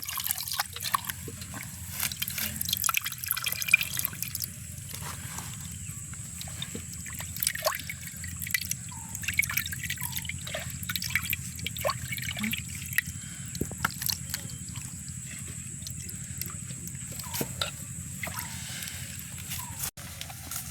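Liver is rinsed in water, giving soft, quiet dripping and trickling splashes in irregular bursts, with no talking.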